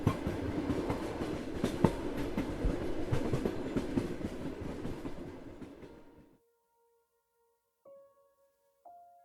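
A tram rolls down a city street with rhythmic clickety-clack of wheels on rails, loud and continuous for several seconds before cutting off, followed by a few faint tones.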